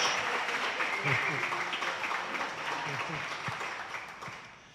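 Audience applause at a Republican back-to-school town hall, a moderate, continuous wash of clapping from the crowd with a voice speaking over it, gradually easing toward the close.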